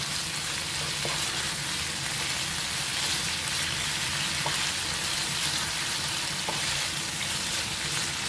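Pork for bulgogi frying in a pan, a loud, dense, continuous sizzle like heavy rain, close up, with a few faint utensil knocks and no talk.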